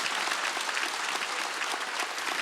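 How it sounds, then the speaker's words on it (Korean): A church congregation at a Sunday worship service claps loudly and continuously in a thick, even burst of applause, with no talking. "응답을 받았다고 얘기한 걸 믿으면 빨리 박수."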